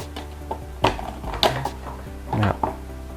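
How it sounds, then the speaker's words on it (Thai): Plastic cover snapped by hand onto a switched wall electrical outlet, giving a few close, sharp clicks and knocks spaced irregularly over a few seconds, with no talking. "ทุกคนก็ใส่ฝาครับ ก็กดลงไปได้เลยนะครับ"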